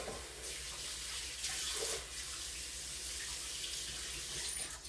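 Water runs steadily from a tap, a continuous bright hiss and splash with slight surges, heard alone and fairly close.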